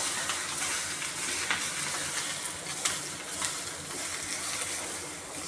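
Patra leaves, colocasia leaf rolls, sizzle steadily in hot oil as they are tempered, a continuous dense frying hiss with a few brief louder crackles and spits, fairly close and with no voices.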